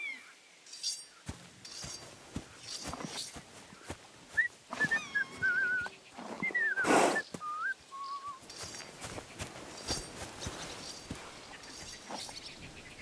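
A few short, rising whistles calling a horse in a video game sound out in the open, followed by a quick two-note call, over a soft background of ambient noise.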